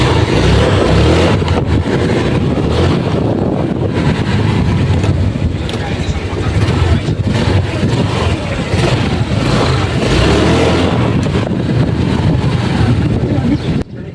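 A Honda Click 125 V2 scooter, just repaired after a TP sensor low error 8-1, revs and pulls on a test ride. Its engine drones loud and continuous beneath heavy wind rush across the microphone.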